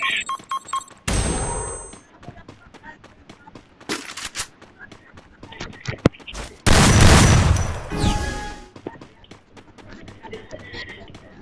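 Gunfire in a mobile shooter video game, with loud, irregular bursts and rapid volleys between quieter stretches of game sounds, mixed with some talking.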